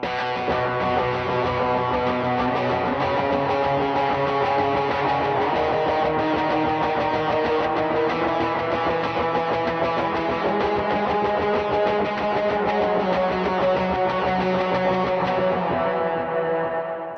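Distorted electric guitar with effects plays full strums on root notes in a worship song pattern, moving from the 1 to the 6, 5 and 4 chords, a dense, sustained wash of steady, evenly paced strums that fades at the end.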